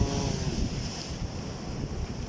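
Big ocean waves churn during a typhoon on the Philippine coast, a continuous loud roar of surf mixed with heavy wind buffeting the microphone, with no voices.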